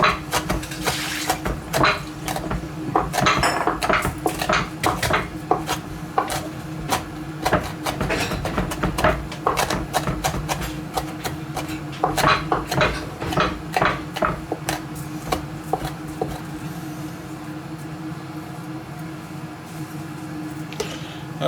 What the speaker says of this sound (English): I'm just going to chop it all up